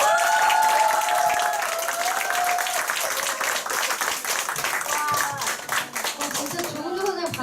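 An audience at a group business meeting breaks into loud, sustained clapping that thins out toward the end, with scattered voices and a few indistinct calls mixed in.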